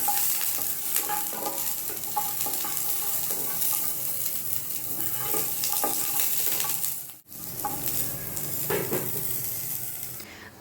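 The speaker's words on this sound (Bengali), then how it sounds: "দিয়ে এটাকে আমি রোস্ট করে নিব কিছুক্ষণের জন্য" Chopped onion and garlic roast in a pan with a dense, steady sizzle and frequent stirring scrapes and clinks, broken by a brief near-silent gap partway through.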